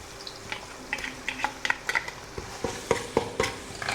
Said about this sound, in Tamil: இஞ்சி பூண்டு பேஸ்ட்டு கொஞ்சம் வதங்கணும்.